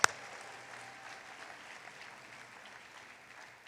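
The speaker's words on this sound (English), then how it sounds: "let's give a big round of applause for Ronna McDaniel." Audience applause at a Republican National Convention nomination session in Charlotte, North Carolina: a broad, fairly faint wash of clapping from a large hall crowd, steady throughout with a sharp louder clap at the start.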